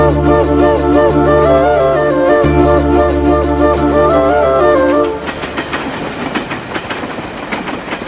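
A moving train rolls past loudly with a sustained horn-like tone over rumbling wheels, then the tone cuts off, leaving clattering, rattling wheel noise and scattered metallic squeals.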